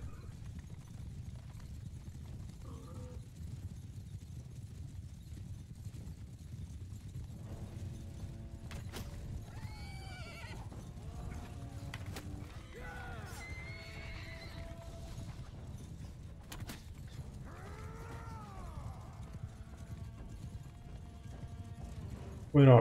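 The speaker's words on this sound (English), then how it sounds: "Horses." Horses neigh and whinny repeatedly over faint hoof clip-clop in a Mount & Blade II: Bannerlord battle, several calls spread through the scene against a low rumbling background, with a person talking quietly at times.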